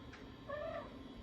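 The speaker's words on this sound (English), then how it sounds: "Oh my god, this cat." A cat gives one short, faint meow indoors, rising then falling, with quiet room noise around it.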